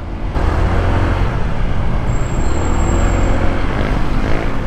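Heavy traffic on Sucat Road near San Antonio Valley 1, heard from a Honda ADV 160 scooter riding among it: a loud, continuous rumble of engines from cars, buses and trucks, with a brief high whine partway through.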